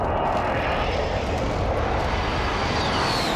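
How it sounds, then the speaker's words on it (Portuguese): A warplane from an airstrike in the Call of Duty Warzone video game roars loudly overhead, its engine drone steady and dense throughout with no talking. "Mandaram o avião na gente pra te fazer."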